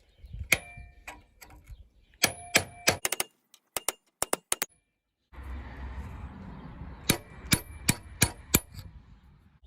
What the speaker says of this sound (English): So I will be using a chisel, looks like this, and a pretty hefty hammer